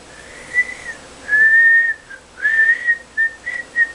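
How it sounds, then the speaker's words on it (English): A child whistles a short series of clear, fairly loud notes, some held and some brief chirps, close to the microphone with no talking in between. "Can you whistle for me?"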